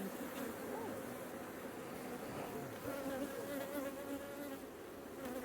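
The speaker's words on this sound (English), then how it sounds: "All these bees are happy. Happy bees." Honey bees in an open hive during an inspection make a dense, continuous buzzing hum, steady and close throughout.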